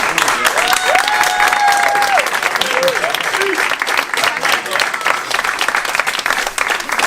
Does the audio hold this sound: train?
no